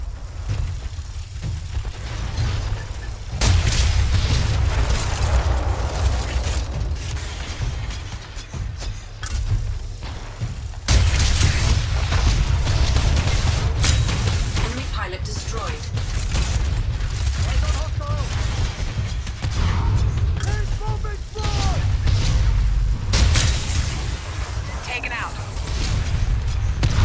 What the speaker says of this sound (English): Charged plasma railgun to maximum. Enemy Titan eliminated.